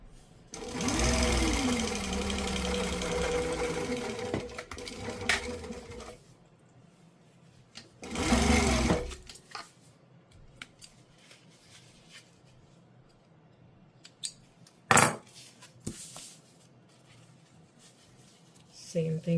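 A sewing machine stitches a zipper onto a water bottle bag in two bursts of rapid, close, loud whirring, with quiet gaps, small handling clicks and some talking between.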